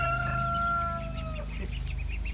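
Chickens clucking and squawking close by in a backyard flock of new birds, a loud run of calls with a rooster-like crow at the start.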